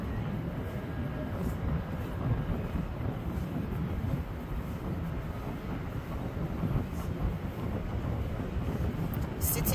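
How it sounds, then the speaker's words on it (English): Steady outdoor wind at the Tower of the Americas lookout in San Antonio, Texas, on a cloudy day, a continuous low rumble and buffeting across the microphone with no clear gusts or pauses, loud and close throughout. "A little bit windy."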